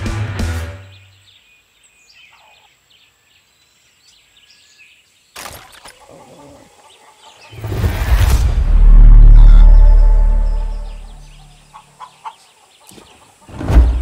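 The rooster Chicharrón clucks in Far Cry 6 with short scattered calls amid quiet game ambience, and a loud swelling rumble rises midway before fading again.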